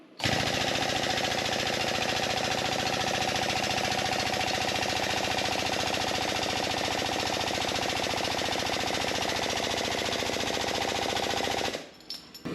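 A tube bender works chassis tubing for an Ultra4 off-road chassis: a loud, steady, rapidly pulsing mechanical drone runs nearly twelve seconds close up, then cuts off abruptly at the end.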